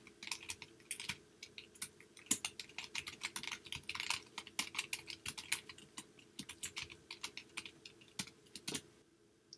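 Fingers type out an email address and password on a computer keyboard, a steady run of close, crisp key clicks with short pauses between bursts and no talking.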